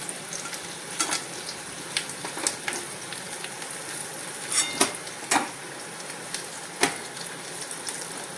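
Bitter gourd slices sizzle in hot oil, a constant crackling hiss broken by scattered clinks and scrapes of a spatula against the pan, with no talking.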